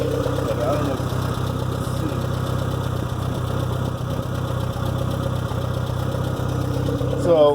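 A Suzuki Samurai engine, fitted with Toyota axles, a 9-inch lift and 35-inch tires, idles steadily with a low, even rumble and rhythmic mechanical pulsing, running close and loud for the whole stretch.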